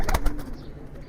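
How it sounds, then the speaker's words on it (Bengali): A female pigeon, a club-tagged racing bird, gives a brief low coo close by, with faint rustling around it. "কবুতরটা মাদি কবুতর"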